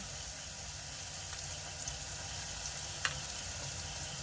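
Chopped onion and ginger paste fry in oil, with sugar already browned in the pan, for a meat curry. The sizzle is soft and continuous, with a faint clink or two of stirring and no speech.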